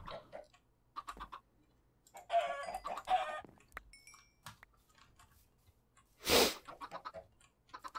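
Chicken clucking in Minecraft survival gameplay, a few short scattered clucks with quiet gaps and other soft game noises, including one louder burst near the end.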